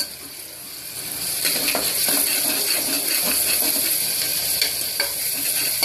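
Ginger garlic paste is stirred and scraped in a hot pan as it sizzles, a continuous frying hiss with repeated soft scraping strokes, fairly close and steady.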